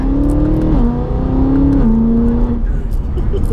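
BMW E92 M3 V8 engine humming steadily under load, its pitch dropping in stepped jumps as the gearbox changes down into second, loud and close with a cabin drone throughout.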